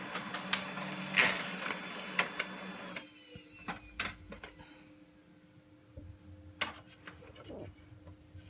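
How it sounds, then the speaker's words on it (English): A printer whirs and clicks as paper is drawn through, with intermittent mechanical clunks and rattles at moderate volume, no talking. "it'll pull it in from my printer, and it'll spit it out up here"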